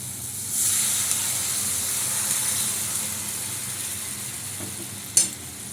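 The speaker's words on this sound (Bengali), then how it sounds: "কিছু আমার মশলা কষানো হয়ে গেছে। একটু জল দিয়ে দেবো।" Water poured into a pan of sizzling fried spice masala for a Bengali prawn curry, a steady bright hiss and sizzle running throughout, with a brief sharp clink near the end and no talking.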